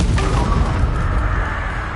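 A Bombarda spell explodes in the video game Hogwarts Legacy with a loud, sharp burst and a deep boom. A rumbling tail then fades over a couple of seconds.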